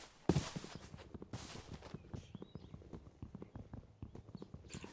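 Horse hooves clip-clop in the RLcraft video game, a steady run of close, crisp hoofbeats with a couple of louder thuds near the start.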